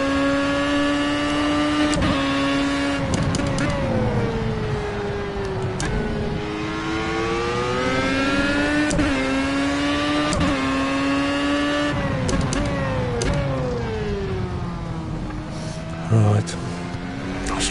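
A Formula One car's engine whines and revs in the racing game Project CARS while drifting, its pitch sweeping up and down through gear changes and throttle lifts, loud and continuous.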